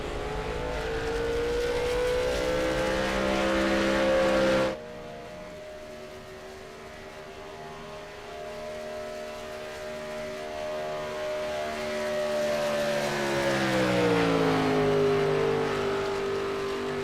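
A Gen 4 stock car laps Daytona in iRacing, its engine droning loud and steady before a sudden drop in level, then climbing back as the pitch bends and swells through a long sweep.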